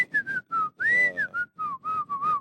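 A person whistles the Andy Griffith Show theme tune alone, clear and close, in a bright melodic line of short phrases with one long held note.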